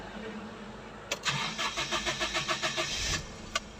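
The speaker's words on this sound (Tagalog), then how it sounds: "medyo hard start pa siya, pero umandar din naman" A car engine hard starting: a quiet lull, then a rhythmic cranking chug of several pulses that catches and settles into a running idle, close by and fairly faint.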